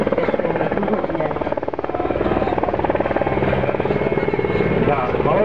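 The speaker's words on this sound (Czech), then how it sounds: "jak tento dopravní vrtulník pomalu a jistě" A transport helicopter with twin fuel tanks and a 225 km/h cruising speed gives off a loud, continuous rhythmic rotor thrum and engine whine, with a voice speaking over it.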